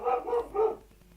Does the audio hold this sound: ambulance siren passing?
no